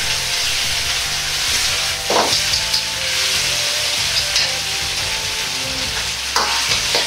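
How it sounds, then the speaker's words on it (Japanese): Chili bean paste (doubanjiang) fries in oil in a pan for a spicy beef and glass noodle stir-fry, giving a steady, close sizzle and crackle with a few brief louder spits and no talking. "油があるところで豆板醤を溶くようにして火で炒めます。"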